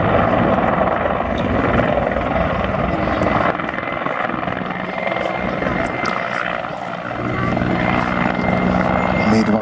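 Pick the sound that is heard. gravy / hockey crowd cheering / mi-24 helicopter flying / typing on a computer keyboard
mi-24 helicopter flying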